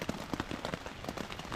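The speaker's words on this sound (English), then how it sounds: "and then it started to rain really hard again" Heavy rain patters densely and steadily on a surface at a windy, wet coastal campsite in Normandy, a close, constant drumming with no voices.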